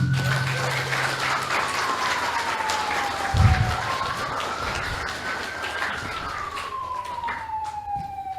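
An ambulance siren wails in slow rising and falling sweeps, loud and close, over a crowd with a burst of clapping and faint voices in the background.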